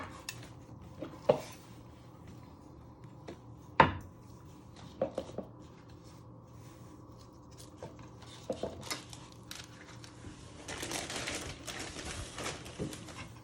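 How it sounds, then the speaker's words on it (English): A knife chops and trims spring onions, leaving a handful of sharp, separate cutting knocks spread across a quiet kitchen background, followed by a denser patch of rustling handling near the end. "You first want to chop your ends off and trim the tops."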